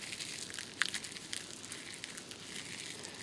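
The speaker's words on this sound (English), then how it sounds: "you can take a handful of leaves and you can crumple them up and you can drop them." A handful of dry leaves crumpled by hand at a hot-weather campsite, giving a few faint crisp crackles and crinkles over quiet background.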